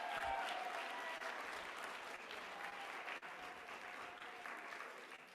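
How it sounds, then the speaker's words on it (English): Audience applauding staff and volunteers at a day-two livestreamed conference event, a steady dense wash of clapping from a crowd that holds fairly even throughout, with a brief dip near the middle. "can we give a huge round of applause to all of our wonderful staff and volunteers that set today up?"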